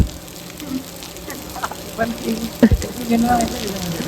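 Water sprays in a broad, soft hiss during the shower show at Shivaji Park in Dadar, Mumbai. The wash continues steadily, with scattered splashes and voices in the crowd.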